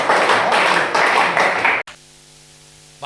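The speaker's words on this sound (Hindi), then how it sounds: "तालियां बजा दीजिएगा सर" Loud applause from a Hindi comedy poetry gathering's audience, a dense burst of clapping for nearly two seconds that cuts off abruptly into near silence with a steady hum.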